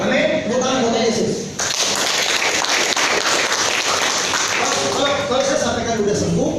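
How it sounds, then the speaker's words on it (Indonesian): A church congregation at an Indonesian Sunday service claps for Jesus, a loud burst of dense applause set between stretches of voices speaking. "Tepuk tangan buat Yesus."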